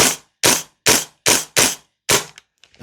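An EMG CYMA Noveske N4 airsoft rifle fired in semi-auto, six sharp evenly spaced shots at close range, followed by a few faint clicks.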